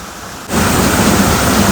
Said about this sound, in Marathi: तूफान तूफान बारिश है.